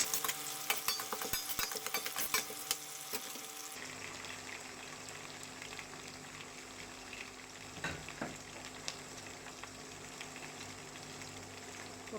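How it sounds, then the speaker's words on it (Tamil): Small shallots fry in a pan for a vanjaram fish curry, a soft, even sizzle with an occasional stir, following a few seconds of running tap water at the start. "கொஞ்சம் வதங்கட்டும்."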